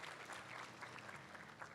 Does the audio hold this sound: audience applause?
yes